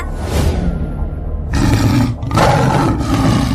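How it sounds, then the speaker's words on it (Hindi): A lion roars loudly nearby in several heavy, rumbling bursts, with a brief dip between the second and third growling surges. "फिर से शेर की दहाड़ने की आवाज आई।"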